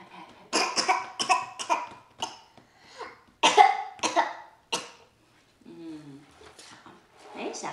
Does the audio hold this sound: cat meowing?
no